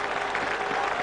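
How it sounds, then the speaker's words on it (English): A crowd claps steadily in dense, continuous applause at a 2005 Bangladesh vs Australia cricket match in Cardiff. "Great applause."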